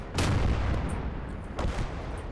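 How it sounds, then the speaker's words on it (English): Artillery guns fire an opening salvo in the Call To Arms: Gates Of Hell war game, with two loud booming blasts about 1.4 seconds apart and a rumbling roar sustained between them. "these guns are gonna fire a bit of a, just a little bit of an opening salvo into the area"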